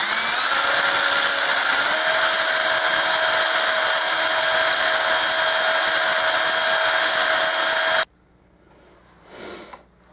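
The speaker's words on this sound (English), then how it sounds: "Now we've got some 80 grit paper on a little drill, and we're going to smooth the inside up." A small drill spinning 80 grit sandpaper to smooth the inside of a coin ring made from a Franklin half dollar, a loud, steady high-pitched whine with slight pitch shifts that cuts off abruptly into quiet near the end.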